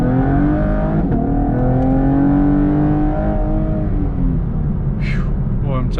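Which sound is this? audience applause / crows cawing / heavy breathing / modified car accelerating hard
modified car accelerating hard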